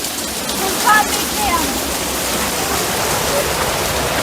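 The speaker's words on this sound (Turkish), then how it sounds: "Mini bir şelale olmuş adeta." A small waterfall on a nature trail rushes steadily, a loud, close, continuous wash of running water with a brief splash near the start.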